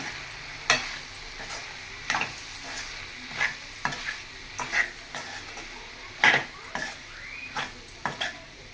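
Mutton liver curry with garam masala being stirred in a pot, giving scattered scraping and clinking strokes of a spoon against metal over a faint background sizzle, with no talking.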